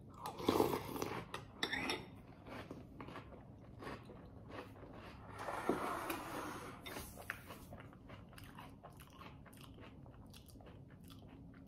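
Faint, close chewing of Krave chocolate chip cookie dough cereal: crunchy bites come in two brief clusters, then quieter mastication carries on at a low level.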